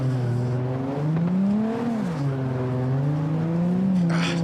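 Car engine in the CarX racing game labouring and bogging down, a loud sustained strained drone whose pitch sags and wavers, rising slightly then dropping again without clearing up.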